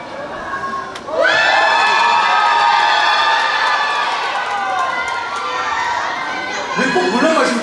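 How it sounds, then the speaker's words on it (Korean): A concert audience at a family concert in Ulsan screams and cheers loudly as the singer drinks water, a sustained roar of high-pitched shrieks rising suddenly after a short quiet start. "왜 꼭 물만 마시면 소리를 지르세요?"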